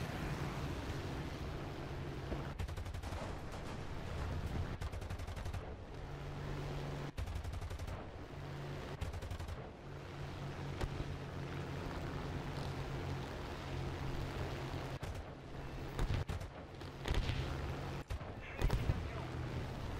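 Gunfire from armor targeting rounds in a combat video game, repeated bursts and shot clusters over a steady engine-like drone for about twenty seconds, with people talking throughout.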